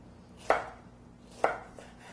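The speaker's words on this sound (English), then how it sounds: "Next we'll chop up a tomato or two." Two crisp knife chops on a cutting board, about a second apart, close and fairly quiet, as a tomato is cut up for guacamole; no one speaks.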